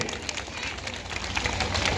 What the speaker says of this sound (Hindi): केपी गंगवार जी के लिए जोरदार तालियां बजा दीजिए